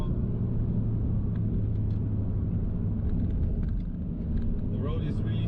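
An MK2 Audi TT 8J picking up speed on a slippery road, with a loud, steady engine drone and road rumble heard from inside the cabin.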